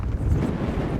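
Strong wind buffets the microphone on a hill too windy to skateboard, a steady low roaring rumble with gusty swells, close and loud throughout with no other sounds.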